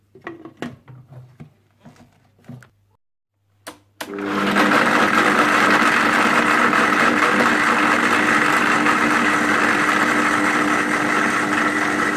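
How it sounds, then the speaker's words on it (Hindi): An electric blender grinds almonds with a little milk into a paste for an almond drink. It starts abruptly after a few seconds of brief talk, then runs as a loud, steady whirring drone to the end. "सबसे पहले आप ब्लेंडर में बादाम और थोड़ा सा दूध डालकर अच्छी तरह से ब्लेंड कर लीजिएगा"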